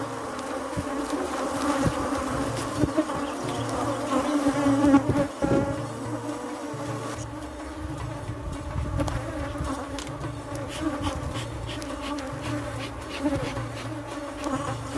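Agitated honey bees swarming around an open hive while frames are changed, a dense continuous buzzing close by, with occasional bumps and knocks from handling.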